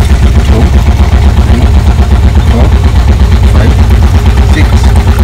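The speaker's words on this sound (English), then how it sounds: "Crank the engine." Toyota 2NZ-FE engine cranking over in a loud, continuous rhythmic churn with dense low pulsing and a clattery mechanical texture, close up and sustained throughout.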